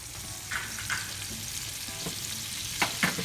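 Olive oil and butter heat in a pan before thin slices of liver go in, giving a steady close sizzle with a few soft utensil scrapes and taps and no talking.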